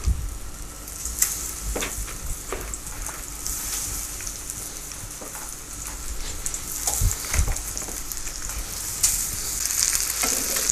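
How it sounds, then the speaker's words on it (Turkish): Egg-coated cauliflower pieces sizzle in a hot pan, a continuous bright crackling hiss with occasional louder pops and soft clinks, close by and without talk. "karnabaharlar yumurtaya bulanıp tavaya konuyor"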